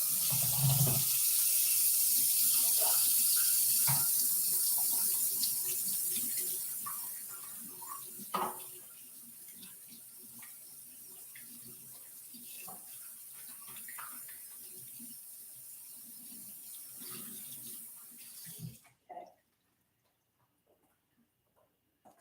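Tap water runs steadily for several seconds as a plastic measuring cup used for flour is rinsed out at a kitchen sink, then fades to quieter handling and a few clinks before stopping.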